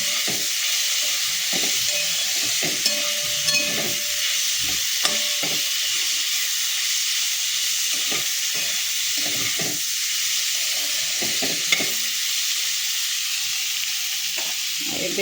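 Potatoes with turmeric sizzle steadily in a hot pan while a utensil stirs and scrapes them in scattered soft knocks and scrapes over a continuous close frying hiss, with no voices.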